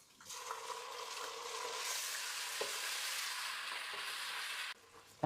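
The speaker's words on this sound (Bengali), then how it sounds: "দিয়ে ভালো করে নাড়াচাড়া করে ভেজে নেব।" Onions hiss loudly in hot oil as they are stirred and fried for mutton rezala, a dense, steady sizzle with a faint utensil tap, cutting off sharply near the end.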